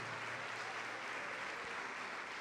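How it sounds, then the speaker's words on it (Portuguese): A church congregation applauds steadily during a service, an even, unbroken roar of many hands clapping throughout. "Vamos aplaudir ao Senhor Jesus."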